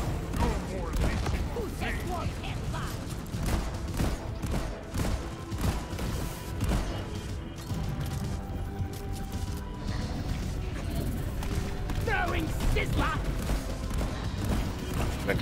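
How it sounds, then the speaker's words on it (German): Sustained Deep Rock Galactic gunfire in a cave, rapid automatic bursts and thuds clattering steadily for the whole stretch, loud and close, with game voices and effects mixed in. "Warte, ich schieße drauf."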